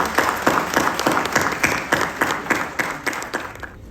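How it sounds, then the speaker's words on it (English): An audience at a New Delhi panel event claps together in a steady, rhythmic beat for the panelists, loud and close, roughly a dozen evenly spaced claps before fading out. "Let us give them a big round of applause."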